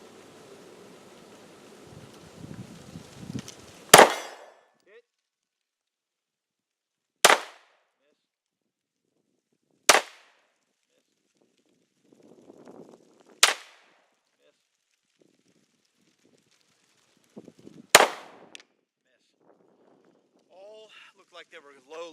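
Glock 43 pistol shots fired at a steel gong from 30 yards, five sharp separate cracks spaced a few seconds apart, loud and echoing outdoors, with a short stretch of rumbling noise before the first shot and quiet gaps between.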